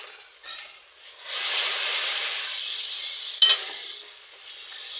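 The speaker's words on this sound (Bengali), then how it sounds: "মশলাটাকে আবার ভালো করে আমি 5 মিনিট কষিয়ে নেব" Spice masala being stir-fried in a pan, with potato in it, gives a steady close sizzle that swells and fades as it is stirred, plus one sharp scrape of the utensil against the pan partway through.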